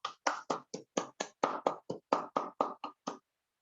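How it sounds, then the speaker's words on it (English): About fourteen crisp, evenly spaced claps from a single pair of hands ring out at a hybrid Toastmasters meeting, quiet and close, then stop into silence. "Let us give her a thunderous round of applause."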